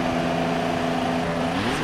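Race-car engine noise from a McLaren pit stop in the F1 2016 video game, a steady close mechanical drone holding for about two seconds before pitching up at the end.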